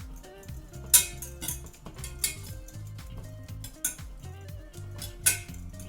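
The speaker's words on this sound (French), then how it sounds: "je continue à mélanger" Butter melting in a pan while a utensil stirs it, giving repeated light scraping strokes and sharp metallic clinks against the pan, close and moderately loud, with no one speaking.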